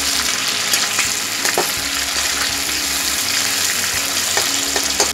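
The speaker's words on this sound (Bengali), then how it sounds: "চিংড়ি মাছটা দিয়ে আমি 5 মিনিট ভেজে নেব, চিংড়ি মাছটা যতক্ষণ ভাজা হচ্ছে ভেজে নেব।" Prawns frying in hot oil in a pan for a jackfruit and prawn curry, giving a steady loud sizzle with occasional stirring clinks, no voices.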